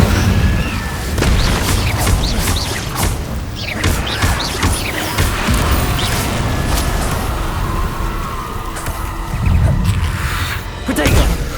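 Incendio fire spell cast in Hogwarts Legacy, a busy run of loud whooshing bursts, booms and impacts in rapid succession amid other combat effects, with a voice talking over parts of it.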